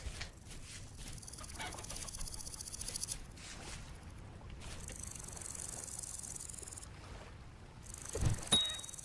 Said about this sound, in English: Oh, I hear chickens.